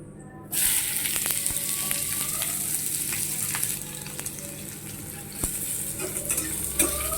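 Chopped onions drop into hot oil already seasoned with chili, bay leaf and panch phoron and burst into a loud, close sizzle that then fries on steadily, with scattered clinks of a spatula against the pan.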